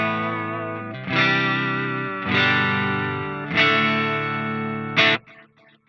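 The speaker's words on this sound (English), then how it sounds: "it's creating this almost stereoized sound just with the delay, because the delays are so far panned left and right" Electric guitar through an amp, a sustained distorted chord struck four times at roughly one-second intervals, each swelling with a chorus-like shimmer and wide stereo-panned delay repeats, the last chord cut short into faint trailing echoes.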